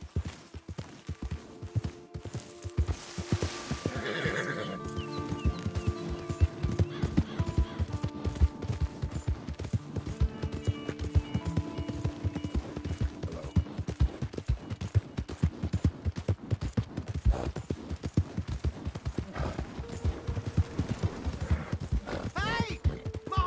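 Horse galloping in Red Dead Redemption 2, rapid rhythmic hoofbeats running throughout with a whinny near the start, game music and occasional voices beneath.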